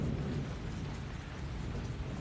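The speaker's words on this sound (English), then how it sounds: "It's pouring in Bonita." Heavy rain pours during a thunderstorm in Bonita, a dense, continuous hiss with deep rumbling underneath, loud and steady throughout with no voices.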